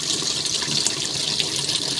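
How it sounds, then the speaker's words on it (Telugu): Water gushes steadily into the drum of a 7 kg automatic washing machine, a close, constant splashing rush with no break and no voices. "చూడండి ఆటోమేటిక్గా వాటర్ అయితే వచ్చేస్తున్నాయి"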